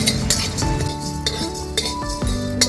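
Whole cumin, garam masala and black peppercorns dry-roasting in a kadai, with a utensil clinking and scraping against the metal in repeated bursts over a steady background.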